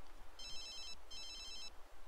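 A phone in The Sims 3 rings with two quiet bursts of a bright, trilling electronic tone, separated by a short pause, over faint background noise.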